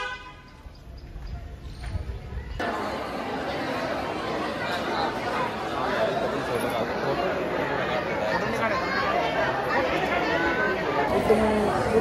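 A dense crowd at a temple chatters and murmurs, a steady wash of many overlapping voices that swells in suddenly after a quieter opening and stays loud and close to the end.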